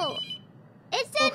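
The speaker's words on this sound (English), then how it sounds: "the phone rings make a good BGM" Telephone rings inside the horror game The Mortuary Assistant, a bright ringing burst at the start that breaks off and returns twice near the end, with a person's voice overlapping the rings.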